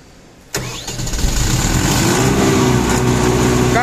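A Teksan three-phase electric generator engine cranks and catches with a sudden jump in loudness, then settles into a steady, loud, close running drone.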